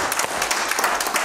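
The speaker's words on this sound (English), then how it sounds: "Let's give him a hand clap this morning." A church congregation claps hands in praise for a brief moment, a dense patter of many hands at moderate loudness.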